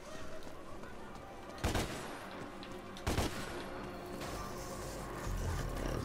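Gunfire in DmC: Devil May Cry, two sharp, loud bursts of shots spaced a moment apart over a constant game ambience.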